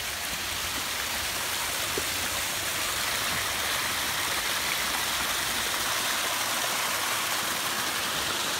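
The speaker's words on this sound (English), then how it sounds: "And of course, one of our beautiful waterfalls to cap everything off." A landscaped backyard waterfall beside interlocking paver patios pours in a steady, even rush of splashing water, close and loud, with no voices over it.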